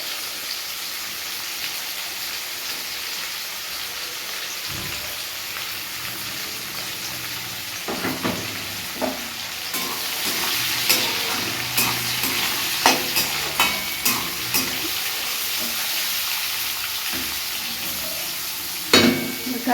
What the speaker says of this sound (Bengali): গাজরটা দিয়ে ভাজতে থাকি।